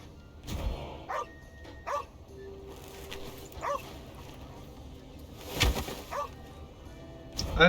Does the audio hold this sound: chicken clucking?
no